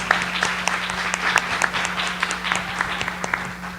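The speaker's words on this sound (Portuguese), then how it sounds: "uma salva de palmas pro Cleverson também" A talk-show audience claps for a guest named Cleverson, a moderately close, lively patter of individual claps over a faint steady hum, tapering slightly toward the end.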